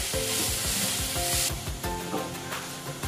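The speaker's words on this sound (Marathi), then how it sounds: "आपण गाजर तर पॅनमध्ये घालून कमी गॅसवर चांगलं परतून घेणार आहोत" Carrots sautéing in ghee in a pan over low heat, a constant close sizzle with rhythmic scraping stirs of a spoon across the pan.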